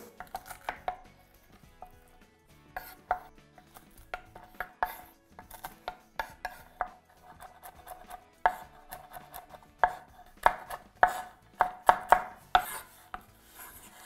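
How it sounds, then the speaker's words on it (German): A knife chops walnuts into small pieces on a cutting board for a vegan savoy cabbage dish, giving a run of sharp, close, uneven knocks that grow denser and louder toward the end, with no voices. "Ein bisschen kleines Stück schneiden"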